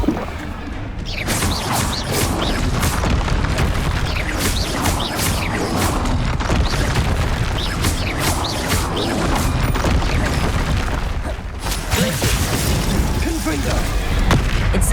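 Fire spells Confringo and Incendio blasting again and again in Hogwarts Legacy gameplay, a dense, loud run of booming bursts and crackling impacts that continues without pause over the whole stretch while a voice calls out the incantations throughout.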